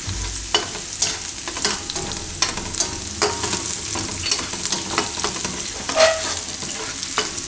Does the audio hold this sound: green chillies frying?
yes